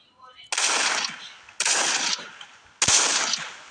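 Three loud, close bursts of automatic gunfire from the video game Los Angeles Crimes, each volley sustained for about a second with short pauses between them.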